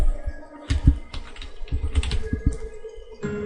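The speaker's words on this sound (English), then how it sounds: "Although I clicked and I'm typing." Keys clatter on a computer keyboard in quick irregular bursts, close and fairly loud, with short pauses between runs of taps and no voice over them.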